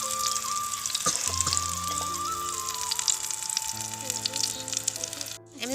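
Eggplant slices fry in hot oil during a small family picnic, a steady close sizzle with a crackling hiss and a low background hum.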